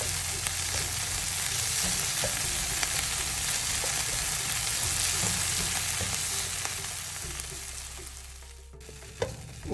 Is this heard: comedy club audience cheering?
no